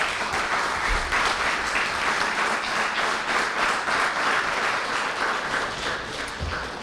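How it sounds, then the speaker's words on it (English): A room of people at a town candidates forum gives a sustained round of applause, many hands clapping in a dense, even wash that holds steady for several seconds before easing slightly at the end. "I'd like to please join us in thanking the candidates this evening. A round of applause."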